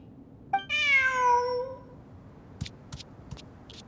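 A single drawn-out cat meow in the video game Genshin Impact, clear and close, followed by a few soft short clicks and taps in an otherwise quiet background.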